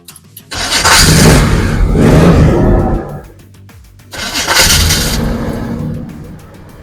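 A 1970 Oldsmobile Cutlass muscle car engine cranks and fires, then revs hard in two loud, close bursts separated by a brief drop to a rumbling idle.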